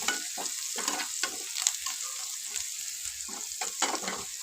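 A garam masala mixture is stirred in a frying pan, giving soft repeated scraping strokes over a light steady sizzle, close and moderately loud with no talking.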